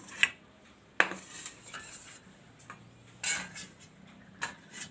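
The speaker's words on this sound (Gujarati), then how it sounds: "તો આ રીતે આપણે બટેટાને ખમણી લેવું" Potatoes rubbed against a metal hand grater in a kitchen, a few sharp scraping strokes with small clinks of metal, close and fairly quiet, spaced irregularly with pauses between.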